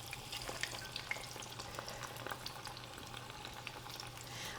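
Spinach corn fritters frying in hot oil give a continuous, fairly faint crackling sizzle with scattered pops throughout, steady and close, with no voices.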